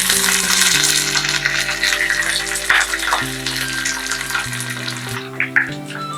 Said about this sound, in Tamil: மாம்பழ புளிச்சேரிக்கு தேங்காய் எண்ணெய் ஊற்றி தான் தாளிக்கணும்